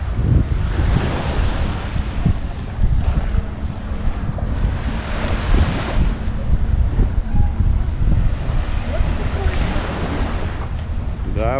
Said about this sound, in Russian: Вот мы вышли на пляжик.